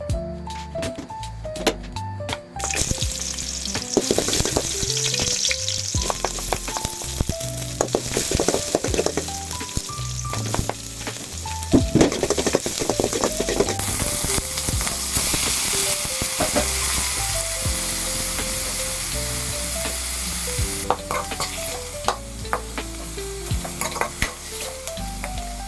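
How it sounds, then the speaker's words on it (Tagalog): Chicken sautéing in hot oil in a pan, a steady loud sizzle and crackle running throughout, with occasional clinks and scrapes of a utensil against the pan and no talking. "igigisa natin ang ating manok"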